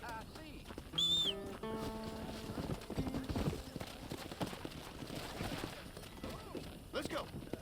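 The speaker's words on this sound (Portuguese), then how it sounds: "quero só o meu cavalinho" Horse hooves clip-clopping in the video game Red Dead Redemption, a steady trotting rhythm with a whinny near the start and a quiet game soundtrack beneath.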